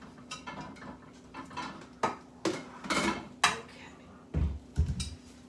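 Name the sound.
getting out a bowl, dishes clattering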